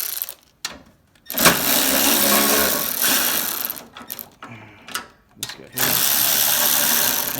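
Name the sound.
ratchet with 1/2 inch socket loosening bolts on snow thrower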